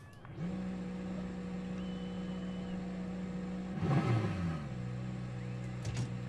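A rally car engine in Assetto Corsa starts up and settles into a steady idle, then briefly swells in a short rev before dropping back to a lower idle, heard close and alone.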